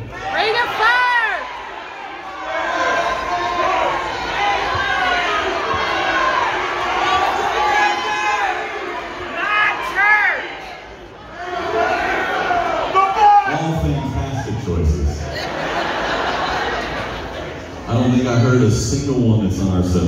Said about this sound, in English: But go ahead, yell out the one you want to hear.